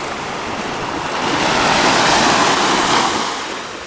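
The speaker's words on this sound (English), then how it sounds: "we're here at the beach and I'm just gonna show you around the water" Ocean surf in the Seychelles washes in a broad, hissing roar that swells toward the middle and eases off, close and steady with no voices.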